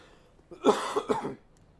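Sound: coughing

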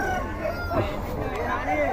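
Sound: rooster crowing at a country chicken market

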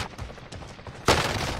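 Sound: gunshots (headshots) in a shooter video game

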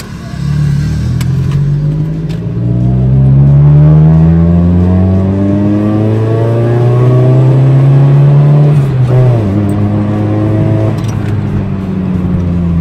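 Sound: 1600 cc four-cylinder car engine revving high while driving

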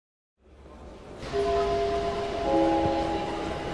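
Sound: train station ambience

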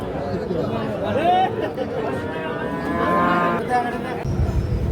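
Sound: Sahiwal calves mooing at a cattle market

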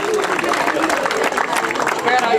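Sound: audience applause

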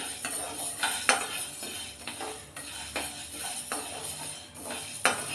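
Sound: stirring green gram roasting in a pan

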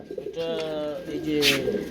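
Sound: pigeons cooing

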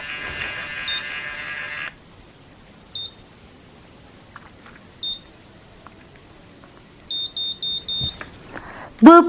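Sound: Babyliss Curl Secret automatic curler beeping

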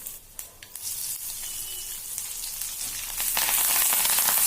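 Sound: tempering spices sizzling in oil

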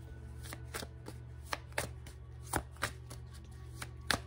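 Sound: shuffling tarot cards

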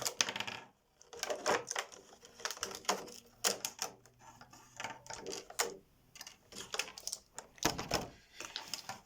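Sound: baby bottle cleaning set items poured out of box

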